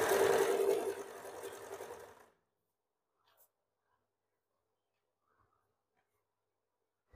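A sewing machine stitching a blouse, one short close burst of rapid whirring that slows and stops after about two seconds, followed by near silence with a couple of faint clicks.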